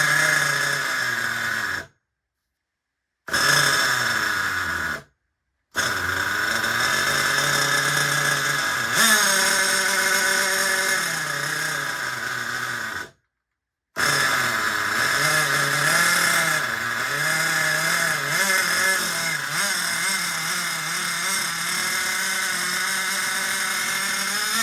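Small nitro-powered RC car engine, recently revived after seizing, revving loudly on throttle with wavering high-pitched buzz, several brief dropouts between bursts.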